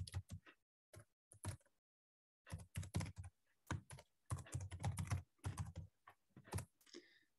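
Someone types an email address on a computer keyboard in short, quiet bursts of clicking keystrokes separated by silent pauses, close and alone with no talking.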